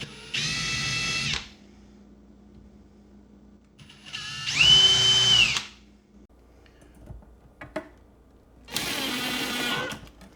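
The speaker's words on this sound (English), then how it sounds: "drill the holes where they need to be drilled" A power drill whirs in three separate bursts while drilling holes for a kitchen cabinet spice drawer, each lasting about a second, with quiet gaps and small clicks between them.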